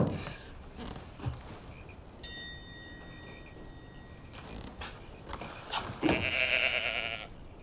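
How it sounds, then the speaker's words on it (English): A pet sheep bleats in a scene from a family comedy episode, several short bleats mixed with a bright ringing tone and a louder burst near the end, moderately close. "That's Cyril, the sheep"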